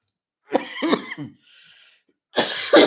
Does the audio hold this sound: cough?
yes